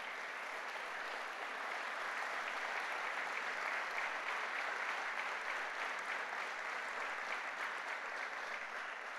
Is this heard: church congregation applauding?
yes